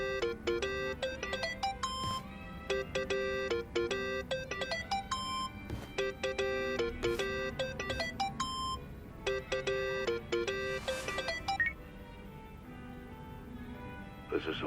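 In the video game Yakuza: Like a Dragon, a phone rings with a looping electronic melody of sharp tonal beeps, repeating steadily and fairly loud, with faint background game sounds beneath.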